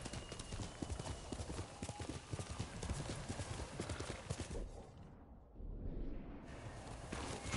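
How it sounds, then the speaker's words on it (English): Horse hooves clip-clop in a quick, steady rhythm throughout in the video game Ghost of Tsushima, close and clear, with a brief horse whinny partway through. "Good horse, Kage."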